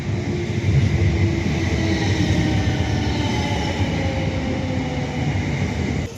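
A train at a London station platform, a steady loud rumble of wheels and carriages with faint rail clatter running throughout, no voices.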